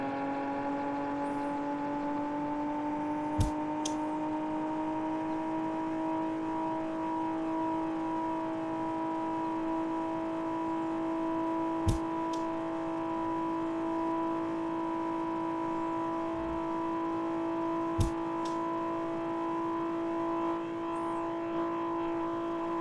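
A race car engine in a racing video game holds a steady sustained drone with slowly rising pitch throughout, with a few brief sharp clicks and no talk over it.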